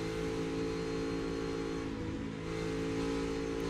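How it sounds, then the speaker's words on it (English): A NASCAR Cup Series car engine at the Southern 500 holds a steady, droning throttle note, loud and continuous with a brief dip midway as the driver eases off before pulling again. "We're hearing his throttle."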